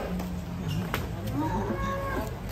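Cow lowing with a long, rising moo close by at a livestock truck, set against steady outdoor background noise.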